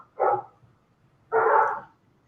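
Dogs give two sharp, separate barks about a second apart, close and fairly loud against a quiet background.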